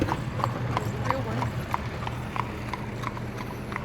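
Horse hooves clip-clop at a steady, regular walking pace on pavement in the village of Kitchen Kettle, Lancaster, Pennsylvania, with a wagon and some background street noise.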